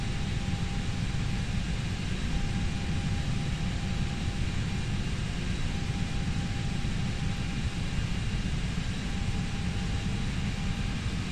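In the Flight Simulator X video game, an airplane taxis in Alaska, giving a constant, steady engine drone with broadband hiss that holds level throughout.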